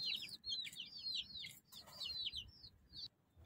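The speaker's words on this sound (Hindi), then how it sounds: "अब मैं आपको मुर्गियां दिखाता हूँ" Chickens call in quick, high-pitched chirping bursts, faint and fairly close, over a low background rumble; a rooster is among them.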